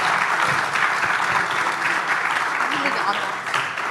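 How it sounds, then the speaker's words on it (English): Steady applause from an audience for panelists at an energy transition summit, a dense, even wash of many hands clapping that fades slightly toward the end. "please give our panelists a round of applause"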